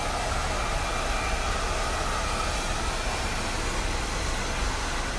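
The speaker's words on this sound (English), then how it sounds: "Now I'm just going to pick up the dryer." A handheld hair dryer blows steadily on hair during a short layered haircut in a salon, a constant loud whooshing roar that holds unbroken from start to finish with no speech.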